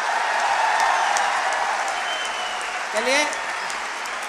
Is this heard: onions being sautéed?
no